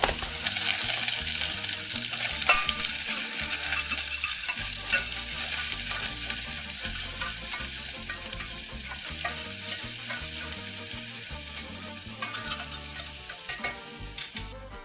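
Chipotle BBQ sauce ingredients are stirred together in a saucepan, a continuous scraping and swishing with a faint sizzle, playing alone and fairly loud under background music.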